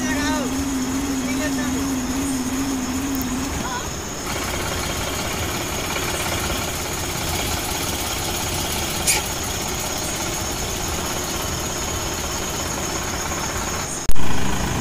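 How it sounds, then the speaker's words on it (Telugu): A Sonalika 4WD tractor drones steadily up close as it strains to pull a stuck John Deere 5050D out of thick, deep mud, with a voice talking over it and a sharp knock near the end. "సోనాలిక 4-wheel డ్రైవ్ బండితో అయితే తీయడానికి ప్రయత్నం చేస్తున్నాం"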